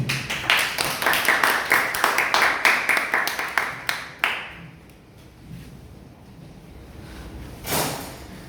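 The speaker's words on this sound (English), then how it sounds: "let's welcome and give applause to our Toastmasters, our next speakers, Toastmaster Ulfi Hikmah" Audience at a Toastmasters club meeting in Jakarta claps to welcome the next speaker, a dense burst of applause lasting about four seconds before it cuts off, followed by quiet room tone and a brief rustle.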